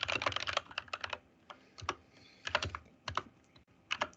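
Someone types code on a computer keyboard. Keys click close and fast in quick bursts and short pauses, with no voices.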